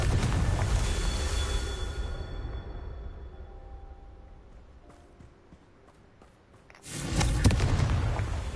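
A Confringo fire explosion spell in Hogwarts Legacy bursts at close range, a loud crackling blast that fades into a hissing rumble before a second sharp, loud burst near the end.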